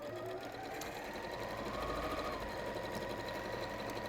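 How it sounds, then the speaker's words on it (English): Electric sewing machine sewing a seam: a steady, moderately quiet motor whirr with a rapid, even stitching rhythm running for about four seconds. "I'm just going to sew a seam with this one"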